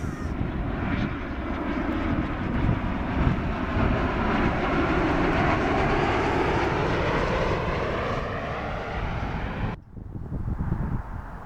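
A Gulfstream jet arriving at Dulles airport roars loudly and steadily as it passes, its engine noise sweeping through before cutting off abruptly near the end.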